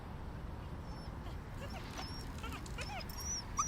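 A dog in a mannequin-themed horror video game gives soft, high whimpers and yips over a steady background hum. The sounds are faint and a short way off.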